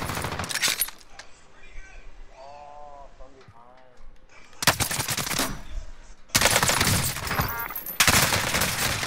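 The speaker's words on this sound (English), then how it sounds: "We're getting shot from two sides." Rapid bursts of automatic gunfire in a PS4 first-person shooter, loud crackling volleys at the start and again in the second half, separated by a quieter stretch of in-game effects and tones while a player talks.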